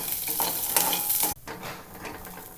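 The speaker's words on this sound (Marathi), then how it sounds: "आपण थोडंसं तेल टाकून परतून घेऊ छान" Soaked peas sauté in a little oil, a loud close sizzle with stirring scrapes that suddenly drops to a softer, quieter fry partway through.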